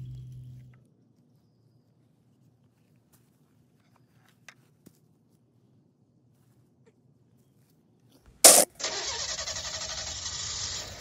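A car engine cranks with a sharp burst, catches and runs on at a steady mid-pitched hum as the car begins to drive off from a farm, following a long near-silent stretch.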